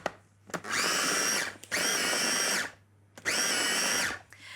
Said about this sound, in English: And then we'll blitz again until it's shredded just a little bit more.